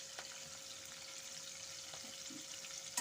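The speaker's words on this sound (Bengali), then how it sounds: "দিয়ে একটু ভাজা ভাজা করে নেব রসুনটাকে" Garlic cloves with green and dried red chillies frying in hot oil for a Bengali prawn-head paste dish, a steady soft sizzle with faint crackles and a few light stirring clicks, close and alone.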